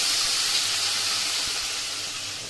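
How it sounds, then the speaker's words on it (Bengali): Fish frying in hot oil in a pan, giving a steady, close sizzling hiss that fades slightly toward the end, with no voices. "এই দেখো বন্ধুরা, আমার মাছ ভাজা হয়ে গেছে"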